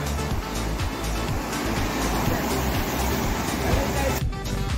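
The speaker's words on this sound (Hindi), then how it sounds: "ये जो आवाज़ आ रही है ना पानी की" Mountain water rushes steadily near Manali, a dense, continuous broadband roar that stays close and even for the whole stretch, with no voices over it.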